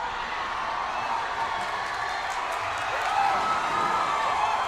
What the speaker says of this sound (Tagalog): At maririnig niyo po ang hiyawan dito ng crowd